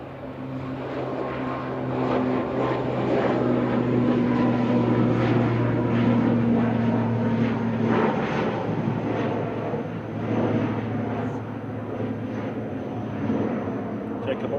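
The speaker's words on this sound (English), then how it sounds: "Noisy prop departing." A noisy propeller aircraft departs Manchester Airport. Its engine drone holds steady and loud throughout, with a person talking over it.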